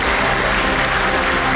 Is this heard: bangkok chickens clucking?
no